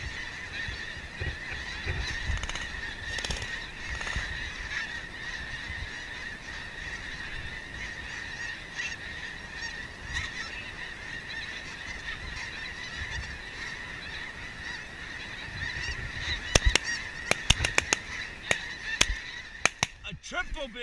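Geese honk repeatedly in overlapping calls during a goose hunt in Alberta, a steady chorus at middle distance, with a few sharp clicks and knocks near the end.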